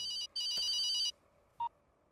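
A telephone rings in an indoor comedy scene: one long, loud electronic ring burst, a short gap, then a brief chirp, with no talking.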